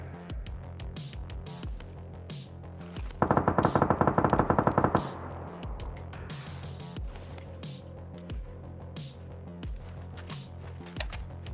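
Gunfire in the game PUBG: a loud, rapid automatic burst lasting about two seconds, followed by scattered single shots and clicks over a continuous game background.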